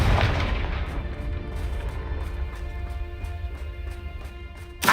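Confringo fire spell blasts in the Hogwarts Legacy video game, a dense roaring burst that opens loud, rumbles on steadily with crackling texture, then ends with a sharp new impact.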